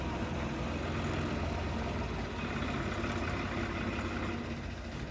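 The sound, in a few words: wheat threshing machine engine running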